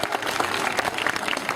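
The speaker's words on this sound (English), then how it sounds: "Let's hear it for Liz and her log pile one more time" Crowd at an elephant show at a Six Flags amusement park gives a short burst of steady applause, many hands clapping together for a second or two.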